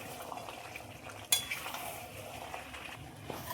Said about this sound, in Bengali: পেঁপে আর আলু দিয়ে খুব ভালোভাবে নেড়ে দেবো।